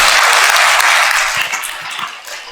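Audience applause after a lecture, a broad crowd of clapping hands that starts full and gradually thins and fades toward the end, with a few individual claps standing out.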